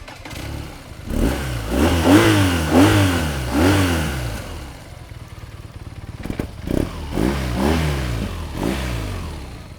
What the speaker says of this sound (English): And speaking of the pipes, let's listen in.